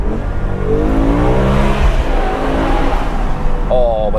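A BMW M5 E60 with a V10 engine accelerates on the Autobahn. The engine note climbs steadily in pitch, then breaks near the end with a quick shift and a fresh rise, heard from inside the car.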